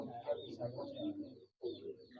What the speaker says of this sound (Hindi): ये गोल्डन कबूतर है